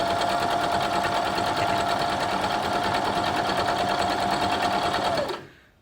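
A sewing machine runs steadily while stitching a log cabin quilt block, a continuous loud motor whir with a fast stitch rhythm that holds for about five seconds before winding down and stopping.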